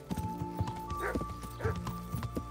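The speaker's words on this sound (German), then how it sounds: "Ich glaube, mit dem Pferd könnte das schneller gehen." Rhythmic clip-clop of horse hooves at a steady trot in Kingdom Come: Deliverance, fairly faint, with a couple of snorting or whinny-like sounds and a low hum behind.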